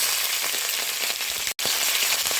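Dried red chillies and curry leaves crackle and sizzle hard in hot oil, a dense, steady hiss of spattering with a brief gap midway, close and loud with no voices.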